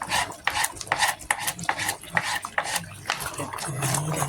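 A spoon scrapes and stirs okra and tomato fish sauce in a pot, a steady run of close, rhythmic strokes against the pot's sides and base.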